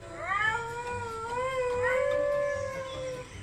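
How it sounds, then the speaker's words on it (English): A dingo gives a yodel-like howl, one long wavering cry that rises, dips and slides between pitches for about three seconds, clear and prominent with no talking. "They don't really bark, they go for a yodel like howl."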